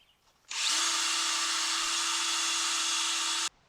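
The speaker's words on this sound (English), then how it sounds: "I'm actually going to clean out the holes a little bit. Make them a little smoother" A power tool starts abruptly and runs at a steady high-pitched whir while cleaning out the ball joint holes on the Dana axle of a Jeep Wrangler JK. It stops sharply after about three seconds against a quiet background.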